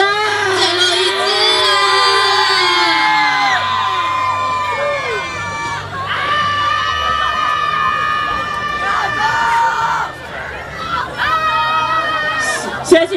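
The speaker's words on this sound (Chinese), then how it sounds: "尖叫声" A large crowd screams and cheers at a dance show finale, with shrill sustained shrieks from many voices in several waves over a dense background of chatter.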